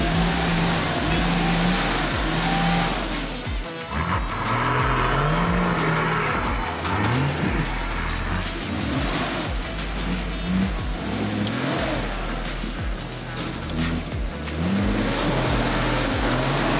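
A 4WD engine revs hard while climbing a steep off-road track, loud and close, with a continuous throaty roar rising and falling as the throttle is worked.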